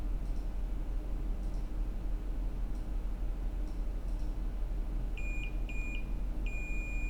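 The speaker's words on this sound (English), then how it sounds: "I'm also getting a beep" A multimeter in diode-test mode chirps in short beeps, then holds a longer steady tone as probes touch a diode on an iPhone 6s backlight circuit, over faint ticking and steady background hum.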